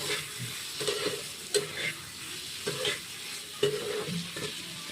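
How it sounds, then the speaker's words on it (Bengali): Water added to a hot pan after frying down the contents, producing a steady sizzle with repeated stirring scrapes and knocks of a spoon against the pan, close and moderately loud. "আমি এবারে জল দিয়ে দেবো"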